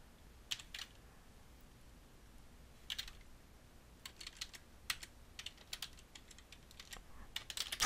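Computer keyboard typing a folder name, short bursts of crisp key clicks separated by pauses, close and quiet with no talking.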